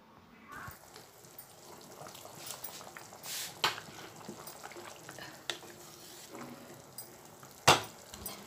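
Anchovy curry with spring onion and coriander stirred in a pan, a low sizzle under scattered scrapes and clinks of a spoon against the pot, with a sharper knock near the end.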